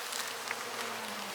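Honey bees buzzing at an open hive of a young colony started from two frames, a steady close, dense hum running throughout with no voices.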